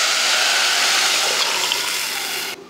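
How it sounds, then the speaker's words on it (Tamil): Tamarind rasam poured into hot oil tempered with mustard seeds and dried red chillies gives a loud, steady sizzling hiss up close that cuts off sharply near the end. "இப்போ தாளித்து ஊற்றுறது தான்."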